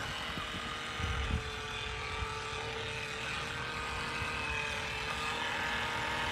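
A $30 Walmart RC boat's small electric motor whines steadily while the boat turns, a thin continuous buzz at moderate distance with outdoor background noise.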